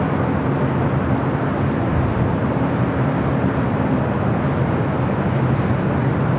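An Eva Air Boeing 777-300ER from Taipei arriving at LAX, heard as a steady, loud, broadband jet roar that holds unbroken throughout with no voices.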